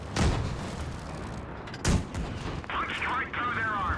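Tank cannons firing in World of Tanks Blitz on Nintendo Switch, two loud booming shots about two seconds apart, each followed by a rumbling tail, with game sound effects afterward.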